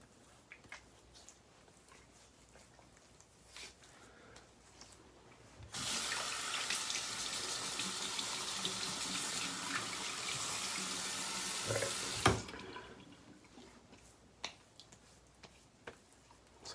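A bathroom tap runs steadily for about seven seconds as soap is rinsed off a face, starting and stopping abruptly, with quiet room sound before and after.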